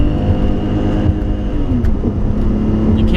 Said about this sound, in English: And the sound that straight six makes is incredible.